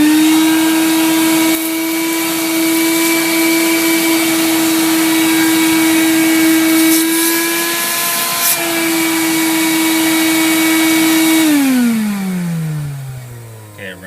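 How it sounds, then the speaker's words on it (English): A vacuum cleaner runs loud and steady with a high whine, cleaning out a thread hole in a BMW engine block during a blown head gasket repair, then switches off and winds down at the end. "I'm going to come back in here with a vacuum first of all."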